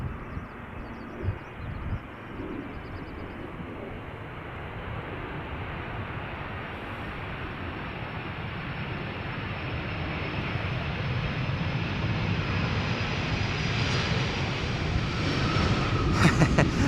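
A 767 airliner lands at Schiphol with its reversers only at idle, making a steady, fairly quiet broadband jet roar. The roar swells slowly over the span, and a faint hiss is heard with no talk.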